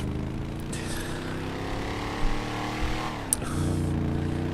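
Volkswagen Mk3 Golf GTI engine in the GTA 5 video game, a steady car drone that rises in pitch through gear changes, with a brief shift dip near the end before the revs climb again, heard alone without talk.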